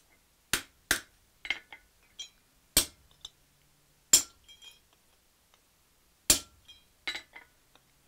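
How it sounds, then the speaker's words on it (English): A blacksmith hammers metal flat on an anvil while forging a Suffolk latch, with sharp ringing strikes arriving in irregular bursts of one to three blows separated by short pauses, close and clear. "At this stage I'm just going to flatten the material on the anvil."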